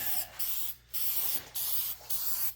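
An aerosol spray can hisses in four short, close bursts with brief pauses between them, spraying paint onto a guitar body.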